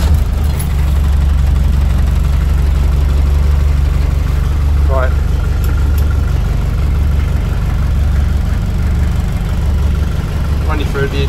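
A 1983 Land Rover Series 3 engine idles cold with a steady, loud low-pitched rumble and throb that stays constant throughout, with someone talking briefly over it.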